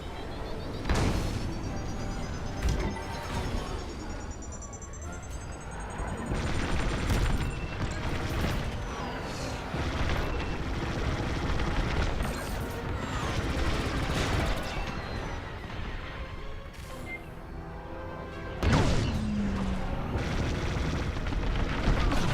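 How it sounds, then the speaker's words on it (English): Missile and laser explosions in the Star Wars: Squadrons space combat game, a steady barrage of booming blasts and rapid fire over a constant engine rumble, loud and close with one heavier impact near the end. "Missile headed my way."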